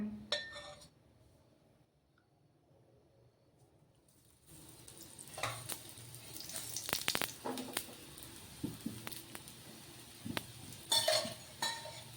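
A spinach dish, already browned on one side, fries in oil in a pan. After a few quiet seconds, a soft, steady sizzle begins, broken by occasional clinks of a utensil against the pan.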